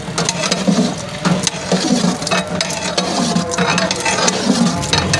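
A spoon stirs jellies into a cream cocktail dessert, making repeated wet squelching and scraping strokes in an uneven rhythm, close and fairly loud, with no voices.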